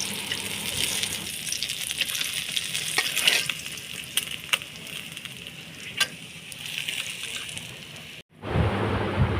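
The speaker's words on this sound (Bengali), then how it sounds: "এখন আমি মাছটা সুন্দর করে উল্টে পাল্টে ভেজে নিল" Tilapia fish fry in a pan with a loud, steady sizzle and occasional sharp spatters and stirring clatters, ending in an abrupt cut to a different, rougher frying hiss.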